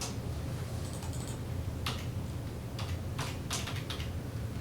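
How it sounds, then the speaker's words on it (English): Typing on a computer keyboard during an office meeting, faint scattered clusters of key clicks in a quiet room, coming in short irregular bursts. "I don't know what's going on with the keyboard"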